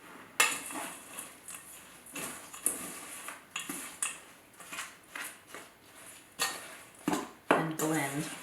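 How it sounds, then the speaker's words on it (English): A spoon stirring chess pie filling of eggs and coconut in a bowl, giving repeated close clinks and scrapes against the dish in an uneven rhythm. "And stir."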